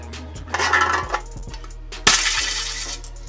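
An airsoft gun fires 6mm plastic BBs at close range, giving two sharp cracks with brief rattling impacts, loud and close.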